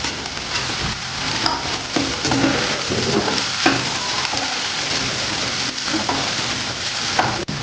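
Peas and capsicum pieces stir-fry in a pan for street-style paneer fried rice, with a loud continuous sizzle broken by repeated scraping and tossing sounds of a spatula.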